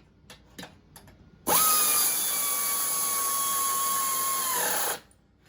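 An air ratchet runs down bolts on a Toro Turfmaster mower with one sustained high-pitched whir of about three and a half seconds. A few faint clicks and taps come before it, and it stops abruptly into quiet.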